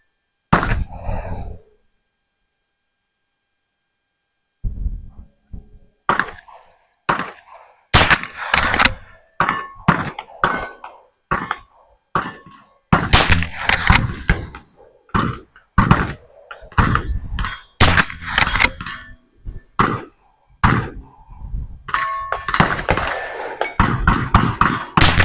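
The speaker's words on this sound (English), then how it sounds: "Let's fire a 10-shot group and" Volquartsen Summit .22LR rifle fired offhand at about 50 yards: a long string of sharp, short cracks spaced by irregular pauses of a second or two, with no talking between them.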